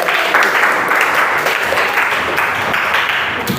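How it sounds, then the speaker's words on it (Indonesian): A classroom of students applauds a classmate named Anil, a dense, steady burst of many hands clapping together at close range throughout, with no talk over it. "Oke, tepuk tangan buat Anil."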